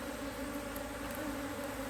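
Honey bees at an open hive make a steady, even buzz with a constant hum and no talking over it.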